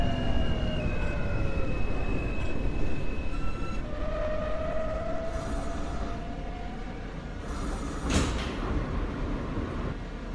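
An R160A subway train on a Manhattan-bound F local run in the OpenBVE simulator game, with steady rumbling wheels and motors, whining pitch sweeps and a brief hiss near the end, continuous and close.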